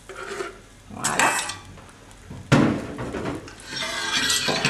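A spoon stirs chocolate cream in a saucepan on an electric hotplate, scraping and clinking against the pan in a few separate bursts, close and moderately loud, with no voices.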